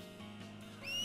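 A short whistle in Final Fantasy X rises near the end of the clip, two bright tones over a steady game ambience with a low hum, and no talking.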